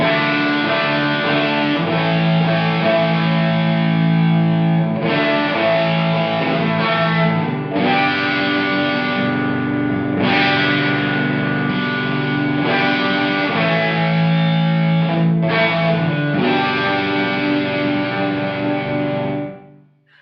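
An electric guitar runs through a Sonicake Blue Skreamer overdrive pedal with its warm switch engaged, playing loud, thick overdriven chords in sustained phrases with short breaks, close and alone, fading out at the end.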